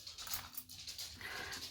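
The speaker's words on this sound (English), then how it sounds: "Here comes my dog." A dog pants rapidly and audibly as it approaches, quick breathy huffs close to the microphone with a faint whimper.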